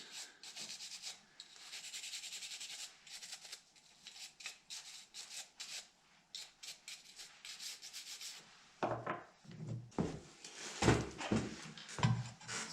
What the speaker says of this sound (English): So for this I do just use a nail brush. So kind of take off any dust.